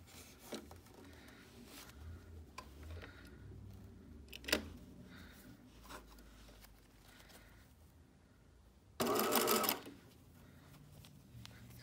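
A sewing machine zigzag-stitches elastic in one short, loud burst of about a second. Quiet rustling and fabric handling surround it.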